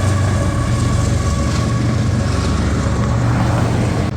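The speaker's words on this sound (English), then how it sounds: "That train rolling now." A train rolls past close by, a loud, steady rumble and rattle of rail cars on the track that holds for several seconds without pause, heard on a motorcycle day trip with no talking.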